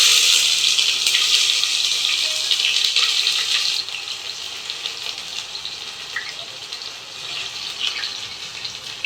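Onions fry in a pan, giving a bright, steady sizzle that starts loud, drops somewhat partway through, then crackles on more softly with occasional pops.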